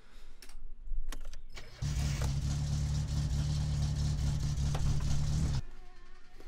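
A car engine in the driving game My Summer Car starts up abruptly after a few clicks and knocks, then runs loud and steady with a rough low drone for several seconds before cutting off.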